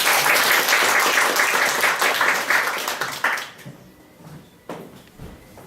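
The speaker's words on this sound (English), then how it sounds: "A round of applause" A humorous speech contest audience applauds for speaker Yuriy Stetsenko, loud dense clapping that fades out after about three seconds, leaving a quiet room with a few scattered knocks.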